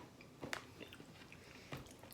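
Someone bites and chews Herr's 7 Layer Dip flavored cheese curls close to the microphone, two or three soft crunches over a quiet background.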